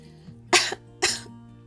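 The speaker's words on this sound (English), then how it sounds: "She sipped and sobbed, then heard a cough" Two short, sharp coughs, close and distinct, about half a second apart, over a faint steady hum.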